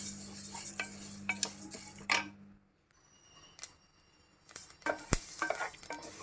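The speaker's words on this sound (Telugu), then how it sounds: "ఏగేయా లేదా అని కొంచెం తెలియటానికి ఇలా చిటపటలాడతాయి" Flax seeds dry-roasting without oil in a thick pan over low heat, with scattered crackles and pops mixed with stirring scrapes and clinks of a utensil against the pan, close and fairly quiet.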